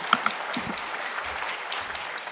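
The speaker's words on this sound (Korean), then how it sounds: "박수로 맞아주시기 바랍니다" Seated audience at a religious studies lecture claps to welcome the next speaker, a few sharp claps opening into soft, moderate applause that holds steady.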